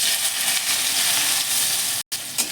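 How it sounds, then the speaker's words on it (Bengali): Potatoes fry in refined oil in a wok, giving a steady close sizzling hiss that cuts out for a brief moment before resuming; nobody talks over it. "আলুটা আমি ভেজে নেবো একটু হালকা করে।"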